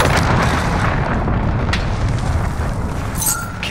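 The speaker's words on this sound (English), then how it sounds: "Allied cruise missile launched" A cruise missile explodes in Call of Duty Modern Warfare, a loud sustained rumbling boom with debris crackle that fills the whole stretch before easing slightly.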